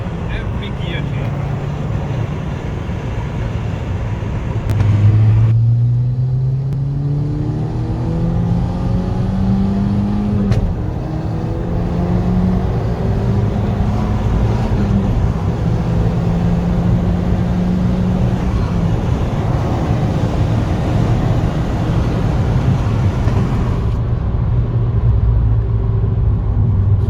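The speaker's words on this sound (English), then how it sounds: "There's a pop with every gear change." A remapped 270 bhp VW Golf Mk5 GTI with a pops-and-bangs tune, its engine rising through the revs between shifts, with sharp cracks from the exhaust at gear changes over a steady loud in-car rumble.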